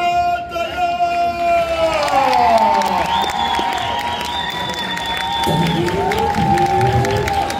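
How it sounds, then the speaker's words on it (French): A crowd cheers and applauds at a cosplay contest, a loud, steady wall of clapping and shouts with whistles and excited voices rising through it, continuous for several seconds. "un tonnerre d'applaudissements pour Ataya"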